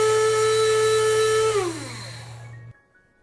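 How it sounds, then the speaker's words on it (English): Dry grinder or coffee grinder milling roasted whole spices: a loud, steady motor whine that winds down and stops near the end, leaving a brief quiet tail. "grind them in a dry grinder or a coffee grinder."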